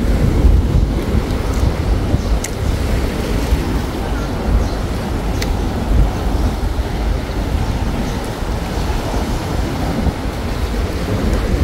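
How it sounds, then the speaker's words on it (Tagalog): Strong seaside wind in Mabini, Batangas roars continuously into the microphone, a dense low rumble that never lets up, with a couple of faint clicks. "Ayun, lakas na naman ng hangin."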